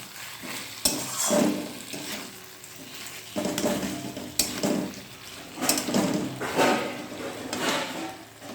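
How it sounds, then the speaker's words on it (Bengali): Tomato sauce frying in a pan for an aloo dum dish, a steady sizzle broken by repeated scraping, clattering stirs and a few sharp knocks of the utensil. "এই টমেটো সসটা ভাজা ভাজা হওয়ার জন্য ছেড়ে দিতে হবে"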